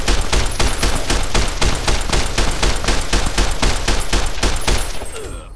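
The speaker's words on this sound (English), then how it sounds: "Good old-fashioned NCR service rifle." An NCR service rifle fires in Fallout New Vegas, a loud, rapid string of about twenty evenly spaced shots that ends with a short fading tail.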